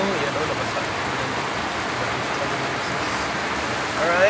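Heavy rain pours down in a steady, dense broadband hiss that holds at an even loudness from start to finish, swelling slightly in the last moment.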